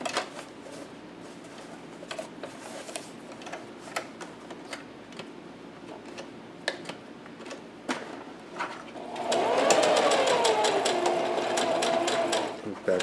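A sewing machine back-stitches the seam of a homemade cloth face mask with a wire inserted, first with scattered light ticks and clicks, then a loud, steady whirring run of a few seconds near the end.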